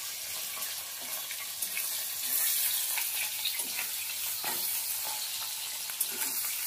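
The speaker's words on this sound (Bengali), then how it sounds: "দেখো এইভাবে মাছটাকে ভেজে নেব যাতে গায়ে না থাকে" Tangra fish coated in raw mustard oil frying in a pan, a steady broadband sizzle with scattered pops and crackles, close and moderately loud, no talking.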